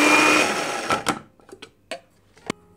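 Electric grinder briefly whirring fennel seeds for panjiri, a loud steady buzz lasting about a second, followed by a few scattered knocks and taps.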